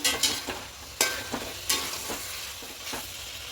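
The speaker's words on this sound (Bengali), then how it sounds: "খুব ভালো করে চিকেনটা কষিয়ে নিয়েছি" Chicken sautéing for biryani in a pan, a steady sizzle broken by sharp spatula scrapes and stirs at irregular intervals, close and fairly loud, no voices.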